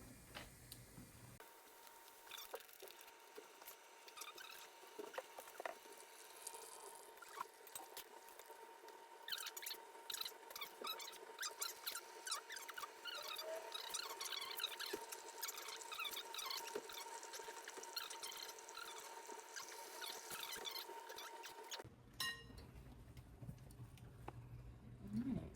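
A coffee maker brewing ground coffee hisses and gurgles steadily with faint dripping and a thin whine for about twenty seconds before the sound cuts off abruptly.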